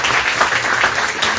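Applause ringing out during a children's thanksgiving church service in Bertoua, a dense, loud burst of clapping from a gathered congregation filling the whole brief moment without pause.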